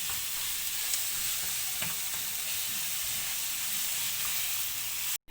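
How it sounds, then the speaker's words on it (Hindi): Masala for a bhendi (okra) dish fries on high heat in a pan, giving a loud, steady, close sizzling hiss with a few faint stirring scrapes and no talk. "आंच आप अपनी हाई कर लें और इसको अच्छी तरह इन सब मसाले को भून लें।"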